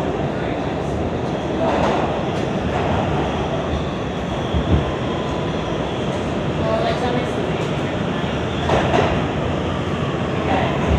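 An R211A C subway train in New York rumbles along with a steady roar and faint clacking of wheels, loud and continuous throughout.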